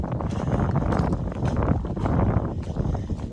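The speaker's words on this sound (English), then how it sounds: "It's foggy, and windy." Wind buffets a foggy mountain summit on the Appalachian Trail, a steady rough gusting roar that rumbles continuously up close.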